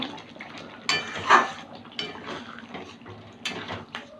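A spoon scrapes and clinks against a pan while egg curry with chopped coriander leaves is stirred, with a few sharp metallic knocks among softer scraping, close and moderately quiet.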